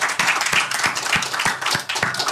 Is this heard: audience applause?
yes